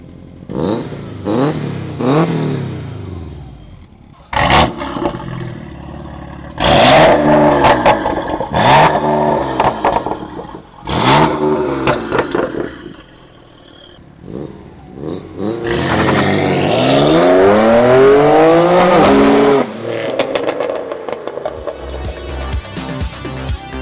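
A Subaru GT 2000 engine revved hard in repeated bursts, each rising and falling sharply, then a longer sustained climb through the revs, loud and close with short pauses between blips.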